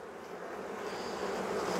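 Honeybees drone in a steady, close buzz from an open backyard hive in winter in southeast Alabama, the hum holding even and continuous without any voices.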